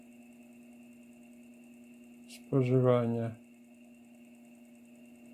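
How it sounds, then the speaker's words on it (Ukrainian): A running motor on an experimental generator test rig gives a constant, even mechanical hum with a faint high whine throughout, while someone briefly says a word over it. "працює двигун"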